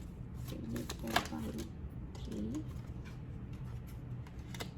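Tarot cards are shuffled and pulled by hand, quick soft riffling and flicking bursts up close, a sharper snap midway, with faint background noise and a voice speaking in between.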